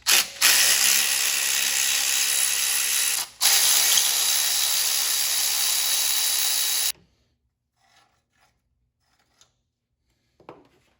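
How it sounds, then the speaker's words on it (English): A ratchet wrench loosening alternator bolts on a Ford Mustang, fast close clicking in two long runs with a short pause between, then near silence with a few faint knocks. "Now I can remove the alternator bolts."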